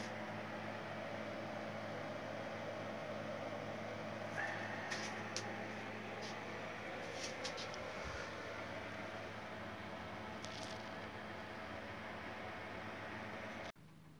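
An oven runs with a steady broadband hum and whir while painted model parts bake, holding constant for about fourteen seconds with a few faint ticks, before the sound cuts off abruptly near the end.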